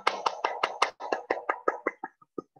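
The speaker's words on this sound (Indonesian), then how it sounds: "Tepuk tangan." Rapid hand clapping, a quick steady burst of about fourteen close claps that slows and softens near the end, with no talking.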